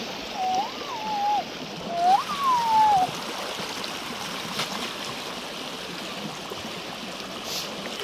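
Water flows along a canal beside a house in a continuous soft rushing trickle, with a few brief whistled calls near the start.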